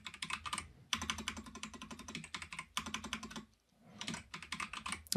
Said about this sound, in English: I'm having a time typing today.